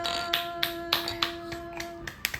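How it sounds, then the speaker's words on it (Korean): A few sparse, light claps at home after a Bible reading with a baby, spaced irregularly over a steady tonal hum. "박수."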